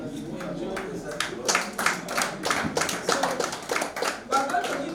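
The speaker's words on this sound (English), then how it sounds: "We're going to give ourselves what we call the star clap, isn't it?" A classroom group of training participants claps together in a rhythmic star clap, a string of sharp, close hand claps in quick bursts with loose timing, a few voices mixed in.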